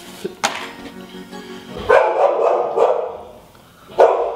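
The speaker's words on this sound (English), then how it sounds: "barking at the postman." A dog barks at the postman, a few sharp barks near the start, then a louder burst around two seconds and another toward the end, close by with no talk.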